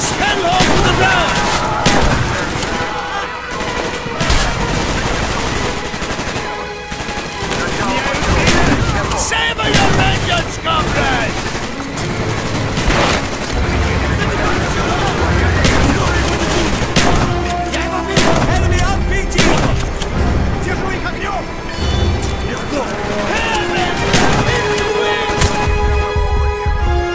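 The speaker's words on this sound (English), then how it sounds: "Shoot the lock, Mason!" Heavy, continuous gunfire and booming blasts fill a Call of Duty: Black Ops battle in the Vorkuta prison level on Xbox 360, loud and dense throughout, with shouted voices and music mixed in beneath.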